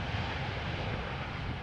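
A KLM airliner on arrival at Amsterdam Schiphol from London Heathrow, its engines a steady broad roar with a heavy low rumble, continuous and moderately distant, with no voices.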